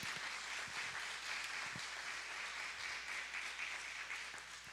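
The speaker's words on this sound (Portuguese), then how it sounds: "Eu queria uma salva de palmas para Jesus nessa noite" A church congregation applauds for Jesus during an evening worship service, a dense, steady wash of clapping from a large crowd heard at a distance.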